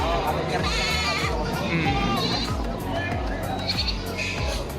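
Several goats bleat repeatedly, close and loud, at a livestock trading market in Padre Garcia, Philippines, over a busy background of people chattering.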